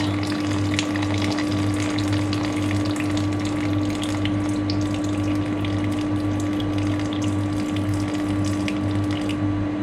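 About 250 of just-boiled water is poured onto flour, a steady continuous rushing hiss with a low hum beneath it, close and even throughout, with no speech.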